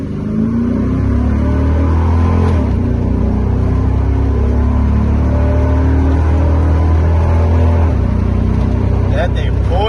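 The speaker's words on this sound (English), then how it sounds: "here's the run, full throttle from the dig." A 1998 Chevrolet C1500 pickup with a rebuilt 4L60E transmission pulls away at full throttle, its engine a loud, steady roar that builds and holds from close inside the cab, with talk faintly underneath.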